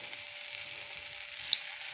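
Moringa drumstick pods fry in a little oil in a kadhai on a gas stove, giving a steady, soft, even sizzling hiss with a faint crackle near the end and no voices.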